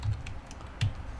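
A computer keyboard gives a few quick, sharp key clicks while database rules are edited, close and fairly quiet, with no voices.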